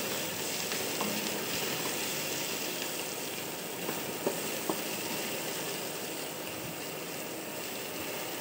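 Ginger-garlic paste fries in a pan as it is stirred, making an even, close hiss of sizzling oil with a few faint scraping ticks from the spoon.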